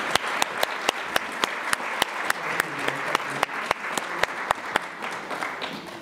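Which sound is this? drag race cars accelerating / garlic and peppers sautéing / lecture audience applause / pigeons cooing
lecture audience applause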